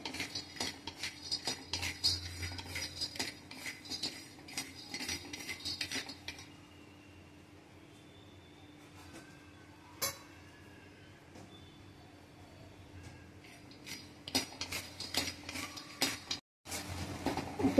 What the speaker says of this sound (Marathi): आणि भाजून घेते सगळं साहित्य, थोडं थोडं भाजून घेते।